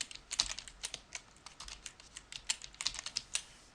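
Quick, light keystrokes tapping out a password on a computer keyboard, an irregular run of close, crisp clicks over near silence.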